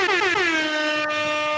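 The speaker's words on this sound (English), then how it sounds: "Hold on, I gotta give you an air horn for that." An air horn sound effect blasts once, loud and sustained with a slightly falling pitch, alone for about a second and a half.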